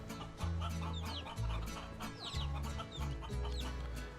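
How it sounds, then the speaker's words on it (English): Clucking chickens in the video game Guacamelee! 2, a run of loud, close clucks in short repeated bursts, each call lasting under a second, with no talk. "Chicken!"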